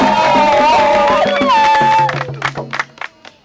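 A crowd bursts into cheering and clapping for a visiting government delegation, loud and close at first under music, then thinning into scattered individual claps and shouts.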